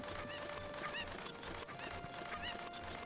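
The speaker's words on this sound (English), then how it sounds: "We've got to collect up some chickens." Chickens in the video game Ocarina of Time cluck repeatedly in short squawking bursts over a steady background of game music and ambience, moderately close.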